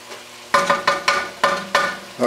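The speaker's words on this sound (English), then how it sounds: "We're just going to break that up and let this cook down and let all that flavor come together" Stewed chicken being stirred in a pot, a series of close, scraping spoon strokes over a low steady sizzle, with roughly six distinct strokes in quick succession.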